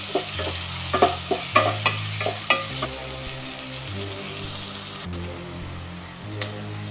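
Sliced onions with a pinch of salt sauté in a pan. Brisk, rhythmic stirring strokes knock and scrape for a few seconds, then ease into a quieter steady sizzle with only an occasional stir.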